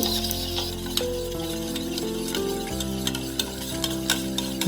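Flour being mixed with salt and a generous amount of refined oil for naan dough, giving a steady, close, even rubbing and stirring sound with faint clinks, no talk.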